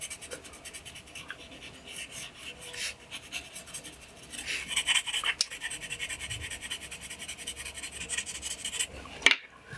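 A pencil drawing of a face is shaded by rubbing lines into shadows on paper, a soft, close scratchy rubbing that comes in uneven strokes, growing somewhat louder and busier partway through.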